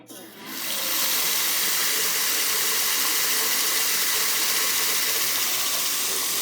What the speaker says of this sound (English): you put it over the sink, and then you pour water on it, and it's just going super fast